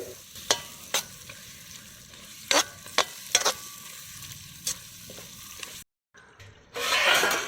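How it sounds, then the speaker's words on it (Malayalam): Pork sizzles in its own melted fat in a pan, with sharp scraping stir strokes striking at intervals over a low frying hiss, a brief silent gap, then a louder burst of sizzling near the end. "നെയ്യൊക്കെ ഉരുകി ഇറങ്ങി നമ്മുടെ പോർക്ക് വേറെ ലെവലായിട്ട് വന്നുകൊണ്ടിരിക്കുകയാണ് പൊടികളൊക്കെ ഫ്രൈ ചെയ്ത് ചേർത്തുകൊണ്ട്"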